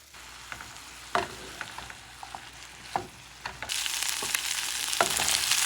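Shrimp hit a hot pan of spinach curry and sizzle loudly, with sharp clinks of stirring before the frying swells into a steady, bright hiss close by.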